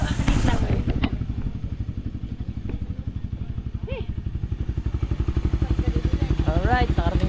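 A borrowed motorcycle's engine runs steadily and close, with a rhythmic idle putter throughout and voices talking over it.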